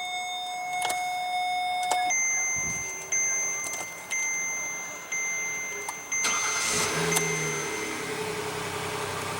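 A 2015 Kia Sedona minivan with a 3.3-liter V6 starts up, giving a short cranking burst and then a steady, moderately quiet idle with a few faint mechanical clicks and chimes around it.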